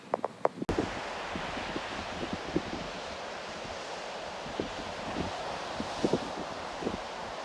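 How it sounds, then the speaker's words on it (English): Strong wind blowing over a seawall at Southwold on the coast roars steadily into the microphone as broad, continuous buffeting, with faint rustling underneath and no talking. "It's really quite windy here, and it's a straight line behind me back to the tent."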